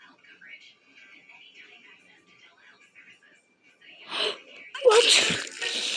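A cartoon pony's allergy sneeze rings out loud and sudden near the end, after a stretch of quiet, breathy voice sounds and a sharp inhale.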